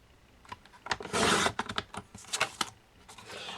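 Paper being cut for a craft page, a close sequence of dry snipping and rustling strokes with one longer slicing swipe, quiet with nobody talking.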